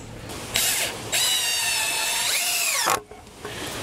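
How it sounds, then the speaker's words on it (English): A power drill drives 1 5/8 inch decking screws into wood while building a quail hutch, with two close, loud whirring bursts, the second long and rising in pitch before stopping abruptly. "Make sure it's lined up pretty well, and then just screw it down"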